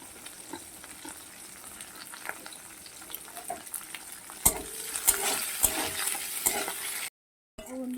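Onions lightly frying in a pan give a soft, faint sizzle, joined midway by a few sharp utensil clinks and scrapes before a brief drop to silence near the end.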